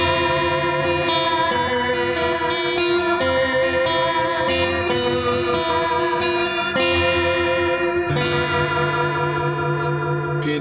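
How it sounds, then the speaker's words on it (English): Guitar run through a short vibrato delay pedal gives sustained, shimmering chords with warbling repeats that blend into a continuous wash, loud and steady throughout with no talking. "I've gone for a shorter delay."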